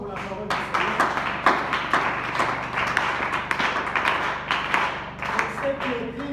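A church congregation applauds, a steady patter of hand claps with irregular bursts spreading through the room while voices carry on over and between the clapping.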